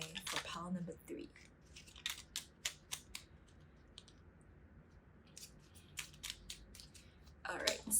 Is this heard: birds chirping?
no